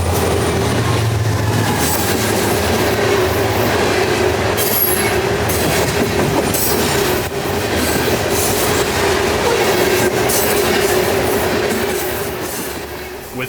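Freight train M441 rolls southbound past the south end of Race Pond, a steady loud rumble of wheels and cars with faint squeal and clatter, continuous and close throughout before easing slightly at the end.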